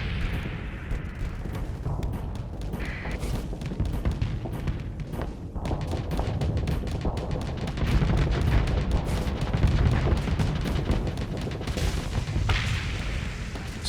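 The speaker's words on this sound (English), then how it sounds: "the assault chain gun is really quite devastating to enemies once we can get past their shields" Rapid automatic fire from an assault chain gun in the Starsector space combat game, a dense continuous rattle of shots and impacts with booming hits, loud and sustained throughout without a break.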